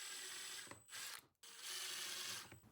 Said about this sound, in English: Now I'm drilling the holes for the self-tapping screws.